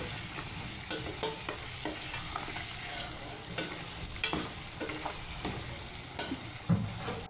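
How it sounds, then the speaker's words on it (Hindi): Thick dal gravy paste with garam masala, coriander, dried chillies and salt cooks in a pan, giving a soft continuous sizzle broken by scattered scraping stir strokes, steady and close throughout. "इसे अच्छे से पकाएंगे।"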